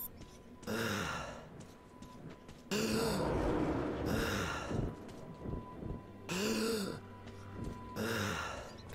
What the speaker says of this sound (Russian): Чего ты так дышишь-то?